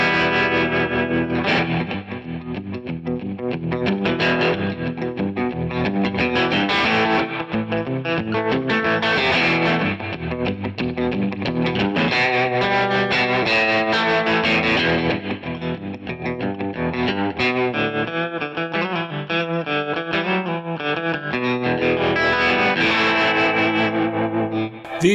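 Rockabilly surf guitar played through a Kemper Profiler with slapback delay, echo and modulation effects, a continuous loud twangy melodic line with reverb-soaked picked notes and chords, no talking.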